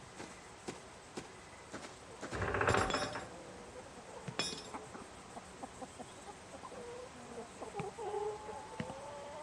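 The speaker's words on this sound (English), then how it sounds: "Those are chickens." Chickens cluck in a video game barnyard, scattered soft clucks and clinks spread over several seconds, with one louder rustling burst early on and no talking.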